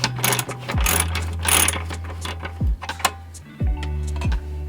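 A ratchet loosens a tightly torqued bolt on a Hollyburn GS electric scooter, with loud, close bursts of rapid clicking pawl ticks separated by short pauses and a few straining turns.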